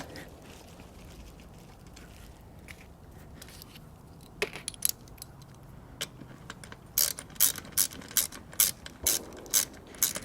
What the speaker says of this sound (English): we're going to tighten this guy up with this 5mm Allen head